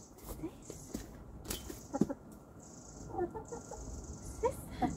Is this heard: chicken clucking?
yes